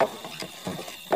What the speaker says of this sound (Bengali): একটি গরুর গাড়ি আমার দিকে এগিয়ে আসছে।